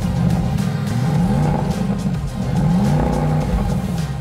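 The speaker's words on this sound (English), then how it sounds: "So I'm going to get in, fire it up and let you listen to it." Land Rover Defender 110 engine fired up and revved, loud close rising and falling revs in two surges over a steady running rumble.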